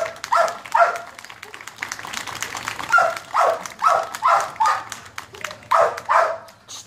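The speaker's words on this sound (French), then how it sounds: "le chien travaille d'une part parce qu'il aime la recherche" A police search dog barks in a demonstration, a run of sharp, fairly close barks in quick clusters with short pauses between them.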